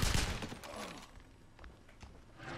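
Rapid bursts of gunfire in the video game Wolfenstein (2009), loudest at the start and then scattered sharp shots at moderate volume, with game sounds around them.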